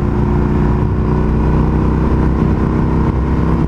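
A 2019 Indian FTR 1200S motorcycle engine runs loud and close in a steady throaty roar while riding, a constant low rumble with no talk over it.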